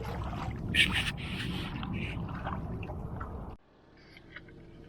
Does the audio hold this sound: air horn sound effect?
no